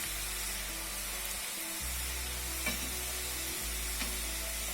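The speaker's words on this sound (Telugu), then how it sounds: "పెట్టుకుని ఇట్లా ఆయిల్లో నొక్కుని, ఆయిల్ కాగిందండి. ఇప్పుడు ఆయిల్లో వేద్దాము." Karapusa dough is pressed from a mold into hot oil, where it fries with a soft, steady sizzle and hiss that continues without a break, a little faint.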